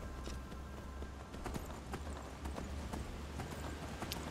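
Horse hooves clip-clop in a steady rhythm as a rider travels on horseback in the video game Skyrim, fairly quiet and continuous with no talking over them.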